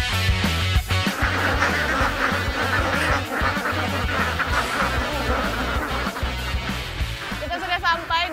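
Dense honking and quacking of a large flock of Alabio ducks being herded fills the clip, loud and continuous, with voices faintly mixed in.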